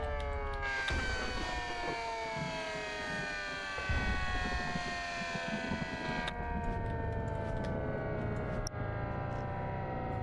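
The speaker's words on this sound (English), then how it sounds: "Oh, there's your tornado siren." A loud, sustained tornado siren wails continuously during a storm chase, its pitch slowly sliding downward, with wind and rumbling noise underneath.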